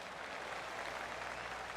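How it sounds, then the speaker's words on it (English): Polite golf claps scattered around a course during a round, with a par 4 featuring a two-tier green, forming a steady, soft wash of distant applause with no talk. "I can hear the golf claps around the course."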